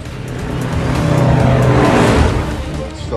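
A 1970s Dodge Charger engine roaring close by, swelling loud as it revs and passes, then easing off, with tire noise and no talking.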